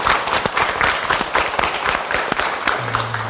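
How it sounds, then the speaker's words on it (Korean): An audience claps together after thanks to a guest on a Korean talk show about back health. The applause is steady and fairly loud throughout. A low tone enters near the end. "박수 한번"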